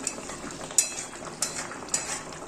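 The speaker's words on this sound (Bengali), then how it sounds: "একবার ঢাকাটা উঠিয়ে আমি একটুখানি নেড়ে নিচ্ছি।" Bottle gourd kofta curry gently stirred in a pan, with a soft simmering hiss and a few light spoon scrapes spaced roughly half a second apart, close and fairly quiet.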